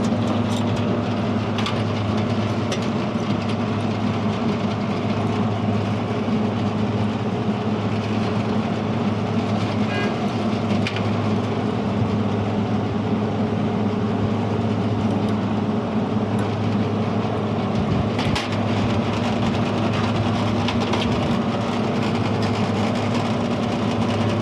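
A hospital cooler's air conditioning system pumps down refrigerant with a loud, continuous mechanical hum and rumble that stays close and steady throughout, with occasional faint clicks and knocks.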